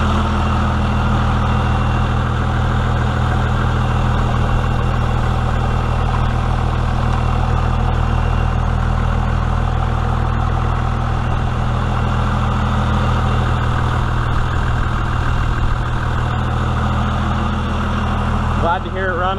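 First-generation compound turbo diesel engine idling close by, a loud steady low rumble that holds evenly throughout, with no voices over it.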